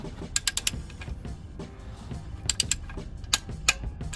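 A torque wrench ratchets tight during an oil and filter change on a Renault Clio 3 1.2 TCe, making crisp, close clicking in three quick bursts separated by quieter handling noise.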